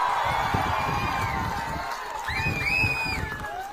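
Large outdoor election rally crowd cheering and whooping loudly, with a dense roar of voices and some clapping under it, plus a few shrill whistles rising near the end.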